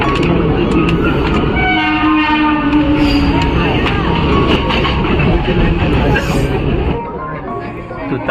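The Tutari train rolls into Thane station with a loud, close rumble and clatter of the carriages, and a sustained horn sounds over the top. Passengers talk under the noise.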